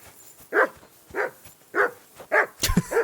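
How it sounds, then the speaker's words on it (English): In the Kingdom Come: Deliverance II video game, a dog barks about five times in an irregular rhythm, each bark clear and mid-distance, with a brief scuffle of other noise near the end. "That mutt of yours to stop barking."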